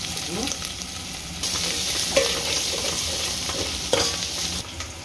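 Onions being stirred with ginger and garlic in a frying pan, a loud continuous sizzle with scraping stirring strokes running through it.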